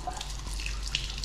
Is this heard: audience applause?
no